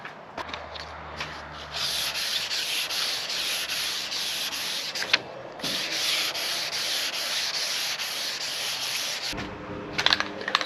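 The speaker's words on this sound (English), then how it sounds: "so I've lightly sanded it" Hand sanding of car paint with 2000 grit sandpaper, a close, steady rasping scrub in regular back-and-forth strokes, with a few short pauses and small knocks.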